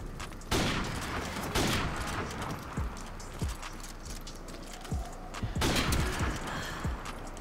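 Gunfire in Call of Duty: Modern Warfare Remastered crackles as repeated sharp shots and bursts, spaced irregularly, with a dense battlefield rumble between them and no talking.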